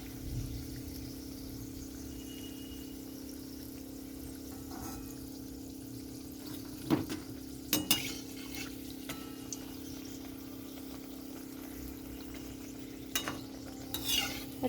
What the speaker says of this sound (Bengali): এটা একটু ভাজা হবে